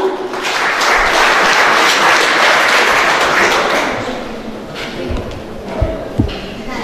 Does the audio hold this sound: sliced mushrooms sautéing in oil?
no